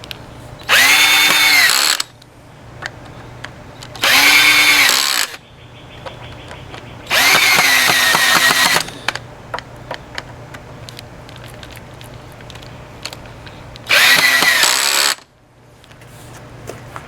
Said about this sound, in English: I'm using 4-inch deck screws to hold the wood together.